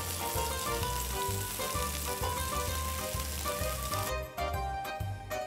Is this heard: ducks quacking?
no